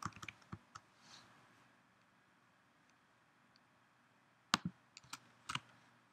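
Scattered keystrokes on a computer keyboard sound close and quiet, with a few quick clicks at the start, a long pause, then another short burst of taps in a silent room.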